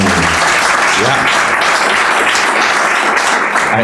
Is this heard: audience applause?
yes